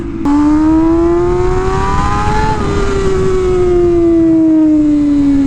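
An MV Agusta Rush motorcycle engine revs up smoothly to a sustained high whine, then slowly winds back down. The sound is loud and close, with no talking.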